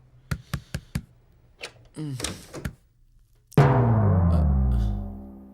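Knocking on a door in a home setting, a quick series of four raps, then a pause, single taps and a few more knocks, followed by a loud sustained tonal burst, close and clear.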